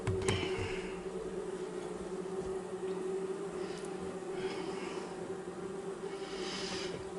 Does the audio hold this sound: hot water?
no